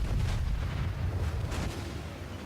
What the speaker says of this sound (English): if I'm missing this, well, I can just keep laying fire